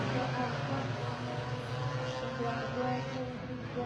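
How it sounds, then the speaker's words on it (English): Stock scooters racing at Pembrey circuit, a continuous droning blend of revving two-stroke engines heard from a distance under a race commentator's voice. "So the revs are rising, the lights are on, and they're off and away."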